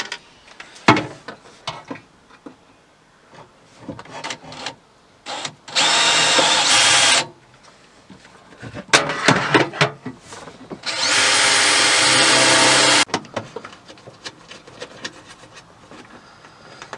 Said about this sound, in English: I'm just going to drill out 2 holes